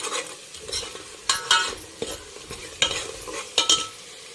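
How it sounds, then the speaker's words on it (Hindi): Ingredients for dalcha frying in a pan while being stirred: a soft, low sizzle underneath a series of close, sharp scrapes and taps of a utensil against the pan at an uneven pace. "इस तरह से हमें अच्छे से सारी चीज़ों को फ्राई कर लेना है।"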